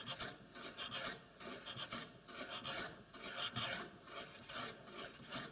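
A wooden jack plane shaves high spots off a wooden board in a steady series of close, rasping strokes, each a soft scraping swish repeated in an even rhythm.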